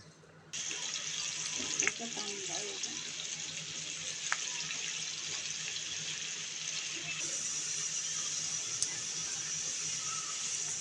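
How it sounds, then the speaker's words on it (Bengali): Chopped onions frying in oil in a pan for a lemon koi fish dish, a steady hiss and sizzle with faint crackles running throughout, close by and fairly quiet. "এবার পেঁয়াজটাকে তেলের সাথে ভেজে নেব।"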